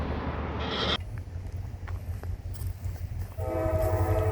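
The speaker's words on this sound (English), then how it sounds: "We got a train coming." A train approaching on the old B&O line rumbles steadily at a distance, and near the end its horn sounds a clear, sustained blast that grows louder.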